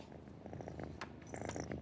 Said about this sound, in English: Comforted and content, they purr like when they were kittens.